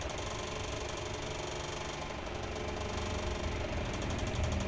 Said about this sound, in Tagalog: Nililinis ko muna yung mga lumang gasket at nilinis ko lang sila ng cap brush na bidara